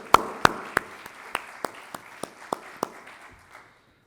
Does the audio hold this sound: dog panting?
no